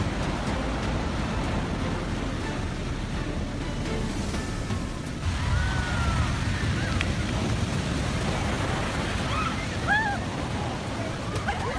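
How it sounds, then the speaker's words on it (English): Massive storm-driven ocean waves crash against a rocky shore, a continuous loud roar of surf and spray with surging swells and faint higher calls over the churning water. "Some tourists actually seem thrilled by the massive waves."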